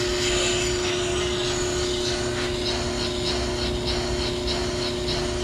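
A brake lathe resurfacing a brake rotor gives off a steady, loud mechanical whine and hum with a constant tone, running without a break for several seconds and no talk over it.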